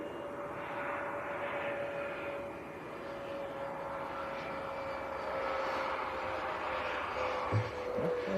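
A passenger jet from Barcelona flies past at Leeds Bradford Airport, a steady, moderately loud engine roar with a sustained whine that swells slightly as it passes and lasts throughout.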